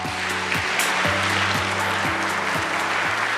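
Audience applause at a national government policy task report meeting, a dense, loud wash of clapping throughout, with a repeating musical tone pattern playing underneath.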